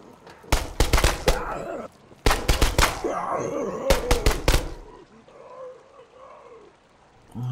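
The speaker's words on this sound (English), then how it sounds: "Looks like it takes about 3 pistol shots to take them down." Three bursts of rapid pistol gunshots in the tactical shooter game SCP: Pandemic, sharp loud cracks in quick groups with a reverberant tail and rumbling game ambience between volleys.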